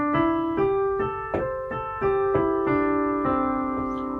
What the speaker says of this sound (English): a pentatonic pitch collection that sounds like this.